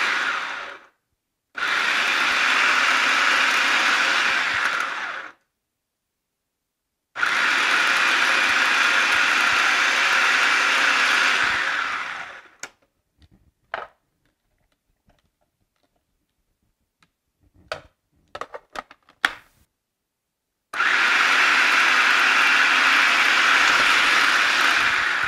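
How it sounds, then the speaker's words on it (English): A blender runs in three loud bursts separated by pauses, with clicks and clatter between them. "we're just gonna blend this a little bit"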